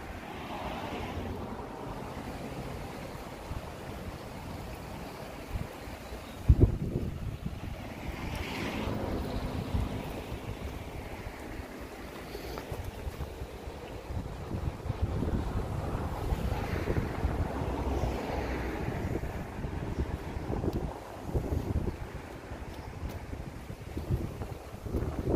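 Fast-flowing floodwater of a swollen river beside a road and path rushes in a steady broad roar, with wind buffeting the microphone and a sharp knock near the start.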